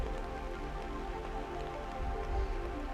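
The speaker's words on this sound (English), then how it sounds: "It's raining out there, everybody." Rain patters steadily in an even, continuous hiss, holding at a moderate level with no talking over it.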